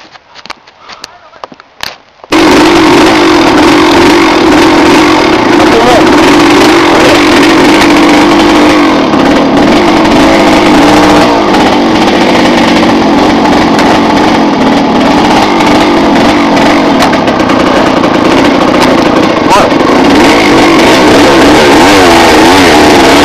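Trail motorcycle engine started after a few seconds of rustling, then running loud and close for the rest, a raspy high-pitched two-stroke idle with small revs, out on a wooded trail.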